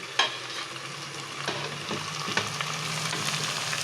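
Onions frying in a pot for chicken yakhni pulao give a steady close sizzle, with a few scraping stir clicks of a utensil against the pot and no talking.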